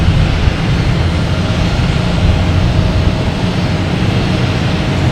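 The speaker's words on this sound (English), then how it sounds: "United Airlines taking off, heading to Dulles, 737-900." A United Airlines Boeing 737-900 taking off at Boston Logan, a loud continuous broadband jet engine roar that holds steady throughout, heard from an airport spotting location.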